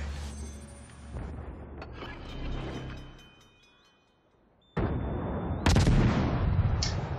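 Ship guns firing in a naval battle video game, with a rumbling mechanical stretch first and then loud, sustained broadband booms of gunfire close up.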